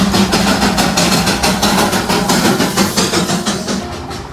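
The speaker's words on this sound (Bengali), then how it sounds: "এই মুহূর্তে বাতাসিয়া লুপে কিন্তু দুটো টয় ট্রেন ঢুকেছে। এটা রয়েছে হচ্ছে স্টিম ইঞ্জিন, আর ওটা হচ্ছে ডিজেল ইঞ্জিন।" A Darjeeling toy train engine at Batasia Loop chugs loudly and close by with a fast, regular pulsing beat that eases off slightly toward the end.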